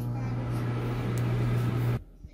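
A Samsung slim microwave hums steadily with a low drone, running for about two seconds before cutting off abruptly, leaving quiet room tone.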